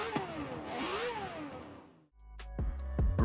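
A Ferrari 512 S V12 engine in Forza Horizon 4 revving up and down in smooth whining sweeps, then after a brief dip a deep idle with sharp throttle blips, close and clear, no talking.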